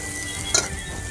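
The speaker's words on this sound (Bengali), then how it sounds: "তো বেগুনগুলো ভেজে নিচ্ছি।" Eggplant pieces frying in hot mustard oil with a little turmeric in a wok, giving a steady soft sizzle with one brief louder crackle partway through, no voices.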